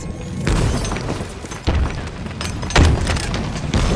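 Grenade blasts in the video game Halo Infinite boom in several loud bursts over a few seconds, each a sharp thump followed by a rumbling tail amid game noise.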